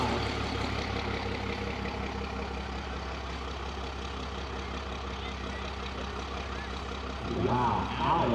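A diesel race truck engine drones steadily at a low pitch at a drag racing event, a continuous heavy rumble that swells slightly near the end, with a voice talking briefly over it.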